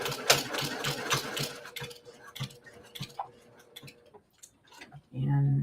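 A sewing machine stitches a quarter-inch quilt seam with a rapid, steady mechanical ticking hum for about two seconds, then slows to sparse clicks and stops, followed by a low steady buzz.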